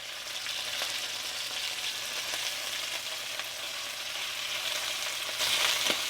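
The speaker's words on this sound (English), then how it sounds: "Now before I flip them over, I'm gonna let them sear from the bottom really good." Chicken pieces searing in a hot pan set to medium-high, a steady crackling sizzle with brief scraping and a louder burst of spitting as pieces are flipped.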